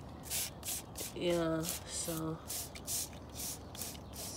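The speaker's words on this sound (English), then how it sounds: "so this is how we use neem oil to spray our plants" A hand sprayer mists neem oil onto garden plants in repeated short hissing bursts, close and steady, while a person briefly speaks and a faint tonal sound passes in the background.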